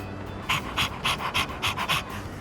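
Koromaru the dog in Persona 3 Reload panting rhythmically, seven or eight quick, breathy huffs in a steady beat, close and clear over a faint background.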